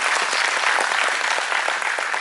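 Applause for teachers at a graduation ceremony, a dense, loud and steady clapping from a large audience, continuous throughout with no speech.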